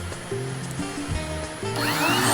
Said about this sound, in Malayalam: ഇനിയിപ്പോൾ നമുക്ക് മറിച്ച് മറ്റേ സൈഡോടെ കട്ട് ചെയ്യാം